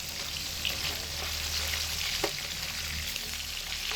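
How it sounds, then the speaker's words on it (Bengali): Pieces of catla fish fry in hot oil, producing a steady, even close-up sizzle with no talking and a single faint tap midway. "মাছের এক পিঠ ভাজা পর্যন্ত অপেক্ষা করব।"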